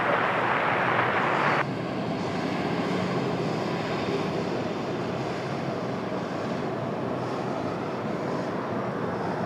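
Engines of a United Boeing 767 arriving from Madrid roar steadily at an airport, a loud broadband rumble with a brief brighter burst at the start, then a sustained, even drone with a wind-like wash.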